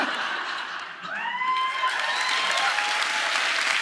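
A live show audience bursts into dense, steady applause with some cheering and laughter, while a voice briefly calls out over the clapping.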